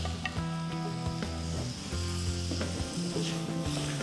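Thinly sliced tomatoes hit hot frying masala for a Kerala-style seer fish chilli curry, giving a steady, close sizzle throughout, with faint utensil taps and a low background hum.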